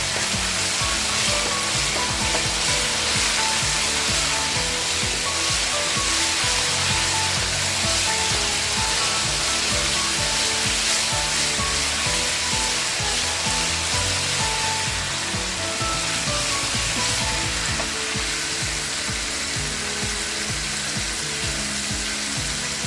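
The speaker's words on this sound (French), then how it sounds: "Dans notre marmite déjà au feu, nous allons d'abord bien cuire notre tomate." Tomatoes cook in a pot over the fire for thieboudienne, giving a loud, continuous frying sizzle that holds steady throughout with no voices.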